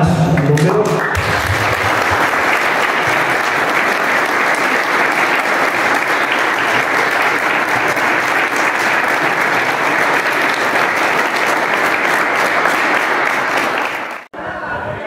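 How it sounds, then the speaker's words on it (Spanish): A crowd at a training certificate ceremony gives loud, sustained applause that runs unbroken for about fourteen seconds, with some voices mixed in, before it stops abruptly. "Nuevamente, un aplauso para ustedes que han logrado cumplir una meta más."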